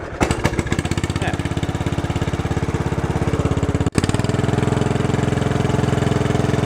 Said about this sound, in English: Great running engine though.